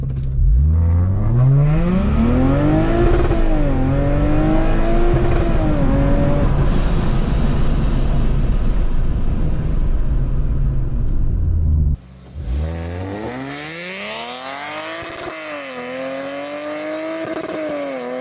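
A supercharged Lexus IS 350 accelerating hard, its engine roaring loud and close as the pitch climbs through repeated gear shifts, with a brief dip before another strong rising pull.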